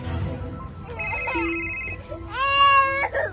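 A telephone rings twice in an electronic warbling tone, close and clear, over low background noise.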